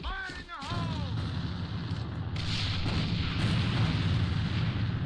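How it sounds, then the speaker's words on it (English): Grenades burst in a competitive A.V.A shooter match, a deep rumbling blast swelling into sustained loud booming and gunfire-like roar that fills the mix throughout, with a brief warbling electronic tone at the start. "Grenades coming out there."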